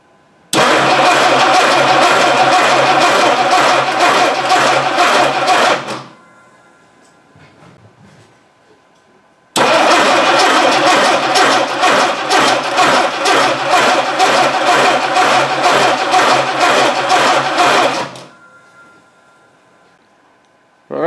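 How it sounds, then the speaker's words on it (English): A Dodge Dart engine, stored for over ten years, cranks loud and close in two long bursts of about six and eight seconds, the starter churning rhythmically without catching, with near silence between attempts. "we'll give this a try. See if it'll fire."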